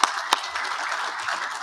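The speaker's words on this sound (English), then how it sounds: "Give her a round of applause" A crowd gives brief applause for a speaker at a Pure Water Southern California federal funding event. A couple of sharp claps stand out over a short, thin patter.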